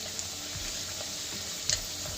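Spicy pumpkin puris frying in hot oil until reddish: a steady soft sizzle with small bubbling pops and one brief sharper clink near the end.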